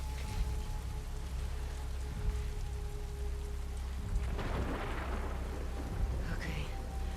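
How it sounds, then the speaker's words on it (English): Rain keeps falling as a player character approaches an aquarium in The Last of Us Part II, with deep rumbles of distant thunder under it and a louder swell of rain and thunder partway through. "the steady build of rain and distant thunder as Ellie approaches this aquarium, tension swelling with every step"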